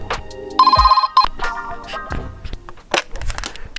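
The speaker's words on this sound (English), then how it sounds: "the phone's just started ringing" A telephone rings loudly and close, a bright electronic tone burst among clattering handling noises and bumps.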